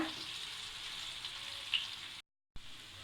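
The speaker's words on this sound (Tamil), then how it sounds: "அதில் இந்த கிழங்கை போட்டு வறுக்க போகிறோம்." Elephant yam pieces frying in a pan of hot oil, giving a steady, close sizzling hiss that cuts out briefly near the end and then resumes, with no voices.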